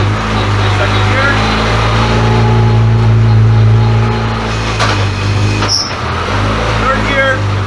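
An all-wheel-drive turbocharged Honda Civic EM2 with a Quaife sequential gearbox pulls hard in second gear, its engine a loud, steady drone recorded from inside the car, with a brief dip near the end and people talking over it.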